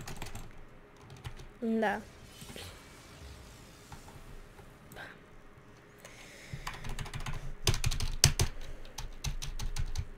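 Computer keyboard typed on and pounded during a Rocket League match: rapid, close clacking keystrokes that grow into dense, heavy hammering bursts toward the end, with a brief spoken word and a short tonal blip early on.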